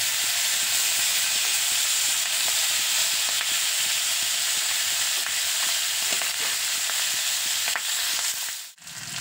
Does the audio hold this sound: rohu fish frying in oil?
yes